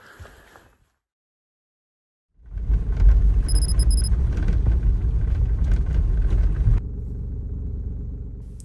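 A truck driving on a mountain road in British Columbia, starting after a near-silent pause, then a loud steady low engine rumble that eases to a quieter drone near the end, without talk.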